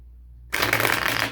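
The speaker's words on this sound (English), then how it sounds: "Okay, I just saw the Fool and the Death card as I was shuffling." A deck of tarot cards being shuffled, a sudden close burst of rapid riffling that starts after a short silence and runs for under a second.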